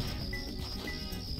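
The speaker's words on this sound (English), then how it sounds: "this is the only thing that feels correctly sound balanced in this game is these crickets." Crickets chirp steadily in Sonic Adventure 2: Battle, a high, continuous trill over a low background hum and soft game ambience, loud and close with no speech.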